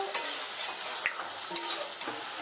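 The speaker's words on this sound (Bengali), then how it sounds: "এবার খুব ভালো করে এই মশলাগুলো কষিয়ে নেব।" Spices for jackfruit curry being sautéed and stirred in a pan with a splash of water, a close sizzle broken by a few scraping strokes of a spoon, no talking.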